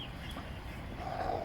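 Bielefelder and Malines hens in a coop give a short, faint cluck against quiet background noise.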